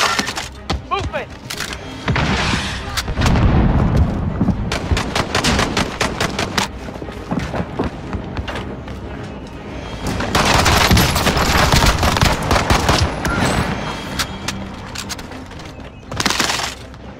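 Video game battle gunfire sounds in dense, loud automatic bursts and rapid volleys across the whole stretch. The firing swells and fades in waves, and players talk in between.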